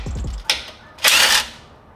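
A tool spins bolts out of a car's transmission pan, two short bursts of whirring rattle, the second longer and louder, close by with no talking.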